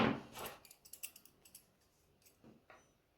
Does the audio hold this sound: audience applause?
no